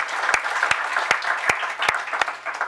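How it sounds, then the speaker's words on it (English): An audience claps at a library groundbreaking ceremony, a steady burst of applause with a few sharp, distinct claps standing out. "We give them a round of applause."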